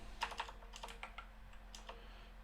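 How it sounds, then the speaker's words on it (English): Typing on a computer keyboard, a quick run of close, crisp key clicks in uneven bursts over a low steady hum, with no talk. "Why is my keyboard messing up?"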